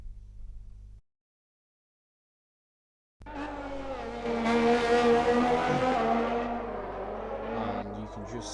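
After a short engine note and a two-second gap of silence, a race car's engine and tires rise into a loud, sustained roar and squeal as it spins out in an online racing video game.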